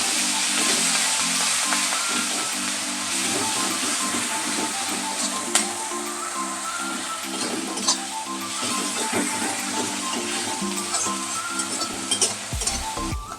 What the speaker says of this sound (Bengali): এবার দিয়ে দিচ্ছি বেটে রাখা পেঁয়াজ। পেঁয়াজটা একটু নেড়ে চেড়ে দিচ্ছি।